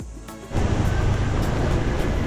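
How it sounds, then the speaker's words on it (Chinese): Sea waves wash onto a beach on Vietnam's south-central coast, rising from quiet into a steady, loud, close rush of surf that continues without a break. "海风吹过来，听着海浪的声音"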